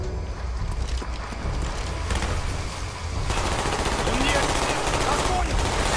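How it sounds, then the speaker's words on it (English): Gunfire in Call of Duty Black Ops, a steady crackle of distant shots that swells louder halfway through, with a low rumble under it and no talking. "do you see how there was gun firing, but no one was firing yet?"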